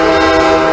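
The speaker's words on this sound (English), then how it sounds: "like in movie cars, you see when like it makes the air horn noise" A loud, sustained locomotive air horn blares in one steady chord for under a second.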